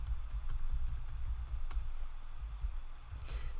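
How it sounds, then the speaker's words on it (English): Numbers are typed on a computer keyboard in an irregular run of quick, close key clicks with occasional sharper taps, heard alone against a low background hum. "I'm going to go ahead and type all these numbers in"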